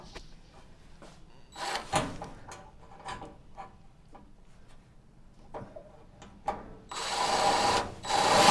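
A power drill drives a screw into the metal of a VW bus, with a short whirring burst early on, scattered clicks and knocks, then a longer louder run of drilling near the end.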